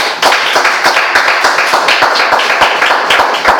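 A church congregation claps in a dense, steady burst of applause, loud and close, with no speech over it.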